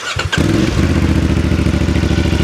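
A CFMOTO 450MT motorcycle with a stock Akrapovic exhaust starts after a brief starter crank and a thump, then settles into a loud, steady, close idle with an even pulsing beat.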